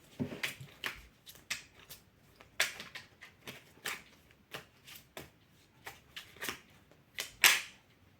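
Oracle colour cards are shuffled by hand in a quiet room, giving a series of soft, crisp riffling bursts at irregular intervals, about a dozen in all, with no talking.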